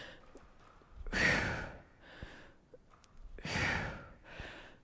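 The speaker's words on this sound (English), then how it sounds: "And I might be breathing for a second here." Heavy, forceful breathing after kettlebell swings and TRX exercise: two loud, gusty exhalations with quieter panting breaths between them, close to the microphone, with no talking.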